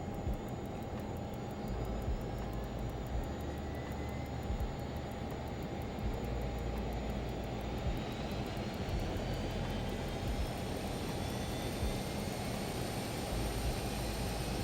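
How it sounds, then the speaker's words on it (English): A Learjet 35A jet engine spins up during a start in Microsoft Flight Simulator, a steady loud whine and roar with a rising high-pitched tone building slowly over about fifteen seconds, no talking. "Starting engine 2."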